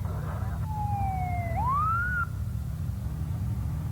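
An ambulance siren in a 1993 EMS public service commercial: one clear wail that falls, then rises again and cuts off, over a steady low background hum.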